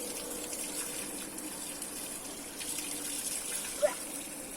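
Cold spring water flowing steadily in a small town, a continuous hissing gush that stays fairly quiet and even throughout, with one brief splash near the end.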